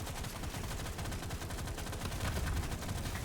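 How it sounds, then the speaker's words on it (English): Turrets in the video game Deep Rock Galactic: Survivor fire in a dense, continuous stream of rapid automatic gunfire, loud and steady throughout with no pauses. "Drop our turrets down to give us some backup."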